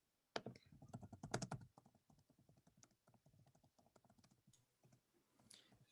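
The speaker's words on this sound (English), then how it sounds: "I'm typing them." Someone types on a computer keyboard nearby, a rapid run of light clicking keystrokes, briefly louder and denser at first, then a steadier patter that continues alone.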